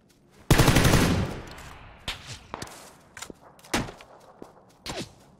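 Gunfire in a multiplayer shooting video game: a loud, close burst of rapid automatic fire, then scattered single shots and thuds, some sharp and near, others quieter and farther off.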